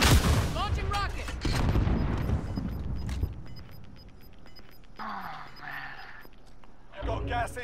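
Rocket launch and explosions in a shooter video game, heavy booms and rattling gunfire-like blasts that fade into quieter rumbles, with a few sharp bursts near the end and game voices over them.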